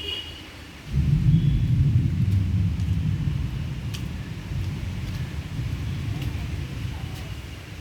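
Rain falls on a home garden where potted bougainvillea plants sit under a sheet roof, a steady low roar that surges in after a quieter first second and continues unbroken, with faint sharp taps above it.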